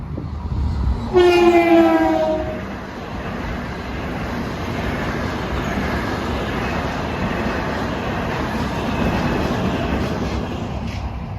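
Long Island Rail Road electric train heading toward Ronkonkoma near Hicksville, opening with a loud two-tone horn blast, then a steady roar and rumble of cars passing close by for the rest of the stretch.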